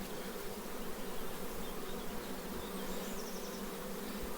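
A dense swarm of honeybees clusters around a queen cage in a hive, giving a steady, even hum that stays close and constant throughout, with no voices.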